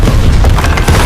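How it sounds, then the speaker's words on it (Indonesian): A heavy boom from an explosion in an animated film scene, loud and dense across the whole moment with rumbling low end and crackling bursts, no voices. "tiba-tiba saja ada suara ledakan"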